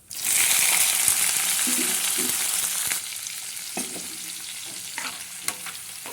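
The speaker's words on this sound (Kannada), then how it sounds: "ಇವಾಗ ಹೆಚ್ಚಿಟ್ಟಿರುವಂತಹ ಚಿಲ್ಲಿ ಮತ್ತು ಆನಿಯನ್ ಹಾಕ್ಕೊಳ್ಳಿ" Chopped chilli and onion hit hot oil in a pan with a loud burst of sizzling that settles into a softer fry, with a few stirring clinks and scrapes.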